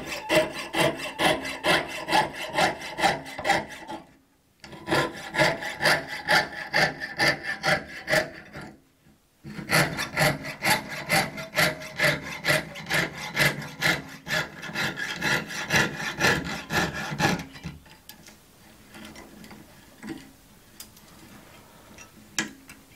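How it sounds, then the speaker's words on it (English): Jeweler's piercing saw cutting through a small piece of metal, a steady run of quick, close rhythmic strokes in three bursts separated by short pauses, with no talking. "and then start sawing."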